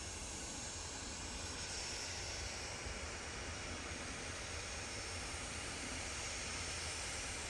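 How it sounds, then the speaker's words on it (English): A Cessna Citation business jet at Manchester Airport gives off a constant, even jet engine hiss and roar, faint and distant, with no voices over it. "Big old nose on this Cessna Citation."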